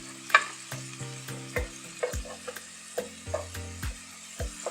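Spices frying in a pot while a spoon stirs and knocks against it in a series of distinct, irregular clacks and scrapes. Steady musical tones play quietly underneath.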